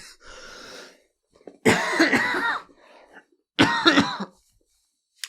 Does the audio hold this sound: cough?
yes